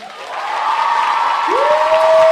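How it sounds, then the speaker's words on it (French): A crowd applauds a guest at a French otaku talk show, and the clapping grows from moderate to loud and full. A sustained rising tone slides in partway through. "Est-ce qu'on peut faire un tonnerre d'applaudissements à Donia, s'il vous plaît?"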